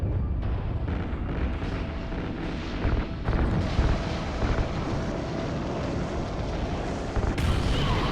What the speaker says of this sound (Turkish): çok güzel patladı.